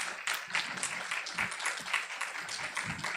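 A panel audience claps to welcome a professor taking the stage as moderator, a quiet, uneven scatter of hand claps from a modest crowd, with distinct individual slaps rising and falling.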